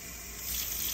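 Tap water runs steadily into a sink while otoscope cleaner parts are rinsed, a continuous close hiss and splash with no talk.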